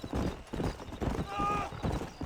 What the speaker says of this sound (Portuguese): Correr para o cavalo.